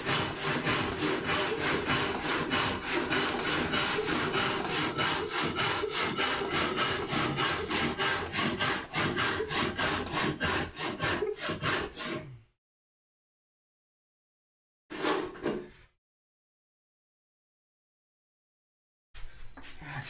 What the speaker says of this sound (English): the kerf that I had cut previously kind of keeps the saw in line as well